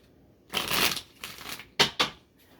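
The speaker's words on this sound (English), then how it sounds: "Let's do a shuffle here." A deck of tarot cards is shuffled up close: a long riffling burst, a shorter one, then two quick sharp snaps as the cards settle.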